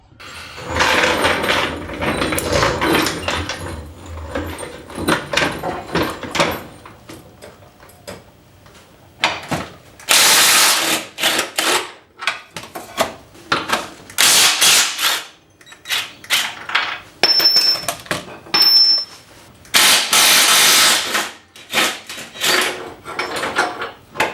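Power tool removing the subframe bolts on a Mitsubishi Outlander during gearbox removal, with loud bursts of rattling impact alternating with quieter pauses and clanks of work.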